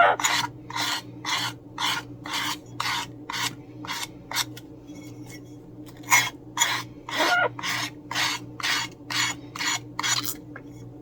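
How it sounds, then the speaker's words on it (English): A sanding block rasps against the edges of paper napkin coasters in about twenty quick, regular back-and-forth strokes, dry and scratchy, close by, over a faint steady background hum. "now we're going to just start sanding off our edges of our napkins."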